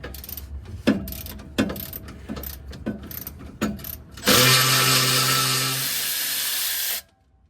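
A hand ratchet loosens a nut on a Mustang rear sway bar with short bursts of close clicking. A loud, steady mechanical whir follows for about three seconds, then cuts off.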